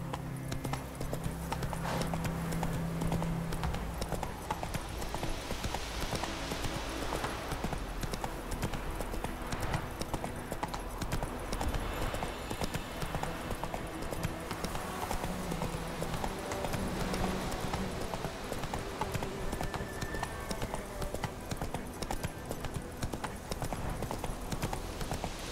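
Roach, the horse from The Witcher 3 game, gallops with steady, rapid clip-clop hoofbeats that run continuously and close up, with faint game ambience and music beneath.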